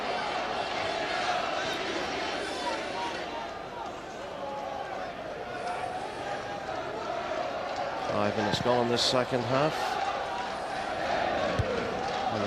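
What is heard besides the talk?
football crowd at Linfield vs Glentoran match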